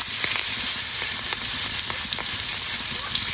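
Taki fish fries lightly in hot oil with a close, even crackling sizzle and faint pops that carry on unbroken throughout.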